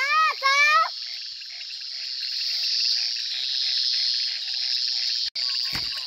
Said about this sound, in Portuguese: Essa sapaiada tá alegre